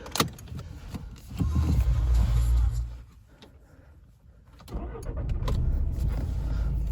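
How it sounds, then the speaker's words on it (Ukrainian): A Volkswagen Golf 6 1.6 TDI diesel engine cranks and catches, then settles into a steady low idle after a brief lull, recorded close by. "Зараз вам заведу автомобіль."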